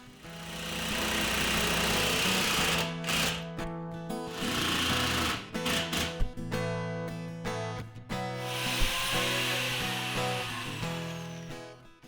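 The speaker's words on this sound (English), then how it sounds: "I'm only drilling through the brace about 2 1/4 inches deep." A 1/4 inch drill bit bores about 2 1/4 inches deep into the wooden brace of a modern bench, giving a loud, steady motor whine that surges and dips as the bit cuts through.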